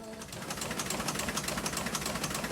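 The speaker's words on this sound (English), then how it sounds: "That's the sound of the historic press in the Vineyard Gazette offices in Edgartown printing the paper." Rapid, steady mechanical clatter of a historic newspaper printing press running at the Vineyard Gazette offices in Edgartown, a continuous rhythmic chatter with no pauses or voices.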